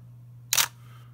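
A single sharp shutter click fires from a Canon camera fitted with a Petzval 85mm f/2.2 art lens. It is close and brief against a quiet background.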